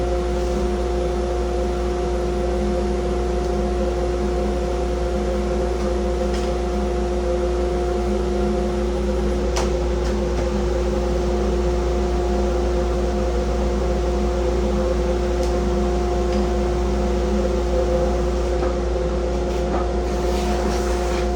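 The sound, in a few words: vacuum cleaner running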